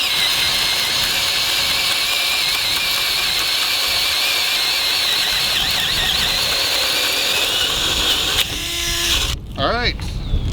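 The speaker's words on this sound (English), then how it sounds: "let's see if we can drill a 2-inch hole" Ryobi 18-volt impact driver boring a 2-inch hole on speed 1, a loud steady whine and rattle running almost the whole time before it winds down and stops near the end.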